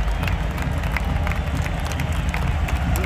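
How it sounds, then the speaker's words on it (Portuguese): Fans fill a stadium in Saudi Arabia with continuous applause for Fluminense at the Club World Cup final. The clapping and crowd noise form a dense, even roar from start to finish. "Geral aqui na Arábia aplaudindo o Fluminense"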